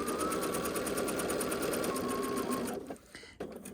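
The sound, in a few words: sewing machine stitching fabric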